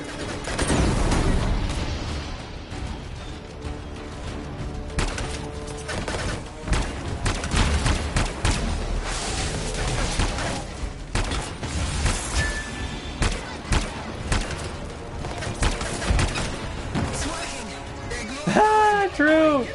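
Sustained gunfire and explosive bursts while shooting at a strider in the video game Anthem, dense and loud throughout under occasional speech and game sound effects.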